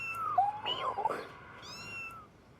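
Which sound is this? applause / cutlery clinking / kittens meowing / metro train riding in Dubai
kittens meowing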